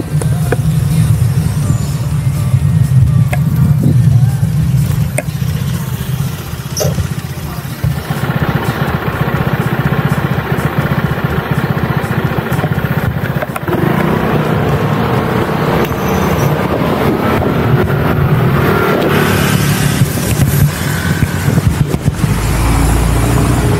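Busy street traffic stopped at a stoplight in Kaohsiung City, many cars and motorcycles idling with occasional engine revs, a steady loud rumble throughout, with brief voices mixed in.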